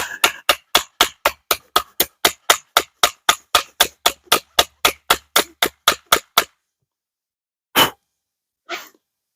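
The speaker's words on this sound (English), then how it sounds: "I could sit here and keep chopping through that" Rapid, evenly spaced sharp chops of a Fobos Alaris camp knife into wood, about two dozen in a steady rhythm, close and crisp, then a pause followed by two louder separate strikes.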